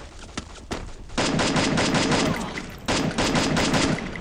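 Rapid bursts of automatic gunfire in the Free Fire battle royale game, loud and close, with a few single shots first and then two long sustained volleys.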